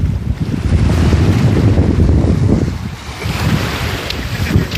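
Strong cold seawater surging on a beach in Prachuap in winter, a loud continuous wash of waves with heavy wind buffeting the microphone throughout.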